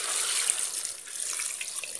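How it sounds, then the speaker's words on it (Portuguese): Water pours into a cooking pot for chicken with pumpkin and potatoes, a close, steady splashing stream lasting about two seconds with no voices. "Colocar um pouco de água"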